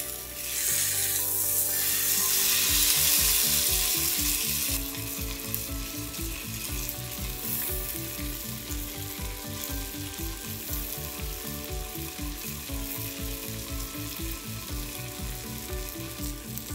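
Hilsa fish frying in oil in a pan, a steady loud sizzle with rhythmic scraping and turning strokes throughout, no talking.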